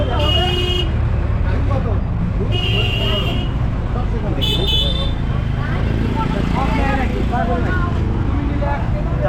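A Basirhat–Dharmatala bus in busy road traffic beside a market, with a continuous engine and traffic roar and several loud horn toots, while people talk over it.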